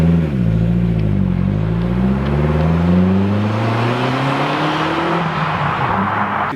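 A Ford Focus RS heard from inside as it drives, its engine droning loud and close, dipping and then climbing steadily as it accelerates before settling into road noise, with no talk.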